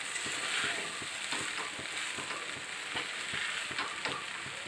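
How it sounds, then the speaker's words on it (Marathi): Sago pearls are sautéed in a pan for sabudana khichdi, a steady soft sizzle punctuated by regular scraping stir strokes, close and without talk. "साबुदाणा घालून थोडासा परतून घ्यायचा। एक मिनिटभर परतून घ्यायचा।"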